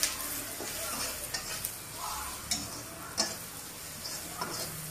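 Small mourola fish being mixed by hand with salt and turmeric powder makes quiet, irregular wet stirring and scraping sounds with occasional light taps against the bowl, close and soft, with no talking.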